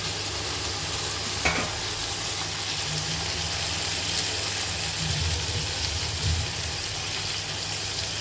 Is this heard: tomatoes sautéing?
yes